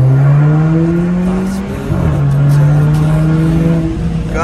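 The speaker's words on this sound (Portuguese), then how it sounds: "Câmbio DSG7 em funcionamento, com remap, vai tirando" A remapped 1.4 TSI car with a DSG7 gearbox revs hard and accelerates up close, with a brief dip near the middle like a quick gear change before the strong, steady engine note resumes.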